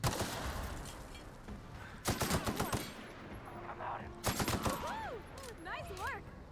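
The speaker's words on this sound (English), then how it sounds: "Let's check out the assault rifle now." Assault rifle fire in The Outer Worlds video game rattles out in two sharp, rapid automatic bursts, followed by quieter game sounds with warbling electronic tones near the end.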